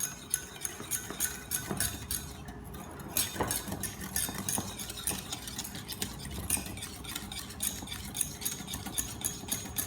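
Powdered sugar and other ingredients being mixed in a bowl for coffee bun dough, with repeated close scraping and light clinks of a utensil against the bowl in an uneven rhythm.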